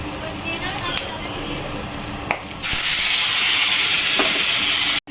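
Whole spices for tempering hit hot oil mixed with ghee while a cauliflower roast is being cooked, bursting into a loud, steady, close sizzle partway through that hisses on until it cuts off at the end.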